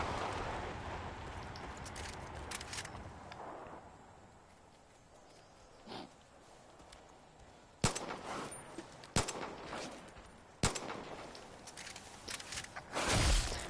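Several sharp, distant gunshots in the video game Far Cry 5 crack one at a time across a valley over a low outdoor ambience, spaced a second or two apart.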